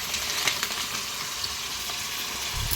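Fenugreek leaves go into mushrooms frying in a pan, giving a steady, close sizzle with faint stirring over continuous hissing oil.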